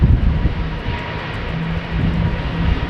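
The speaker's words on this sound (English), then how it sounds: "have a look at the A321neo. Taking off to Berlin as KLM flight" A KLM Airbus A321neo jet takes off to Berlin in wet, windy weather, a steady broadband engine roar with low rumble holding loud and continuous throughout, unbroken by any voice.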